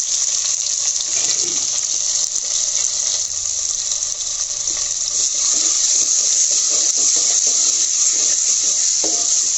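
Chopped onions frying in oil in a pan for handi mutton, a steady loud sizzle that holds throughout with faint stirring clatter underneath.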